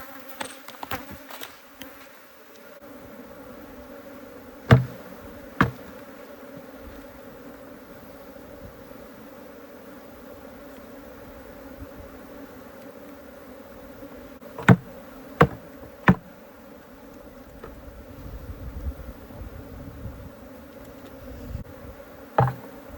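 Africanized honey bees fly around a large hive, making a steady, faint droning buzz that persists throughout, broken by several sharp isolated taps and knocks.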